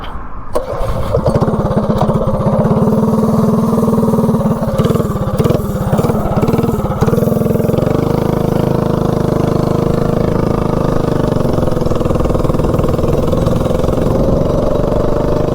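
A propane-powered mini bike engine starts with a jump and then runs hard and loud while riding. The buzzing tone shifts through its first seconds, then settles into a steady drone up close.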